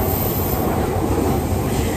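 Train cars rolling past at a train-watching spot by a building in Akihabara, Tokyo, a steady close rumble of wheels on rails with faint squeal, continuous and loud throughout, no talking.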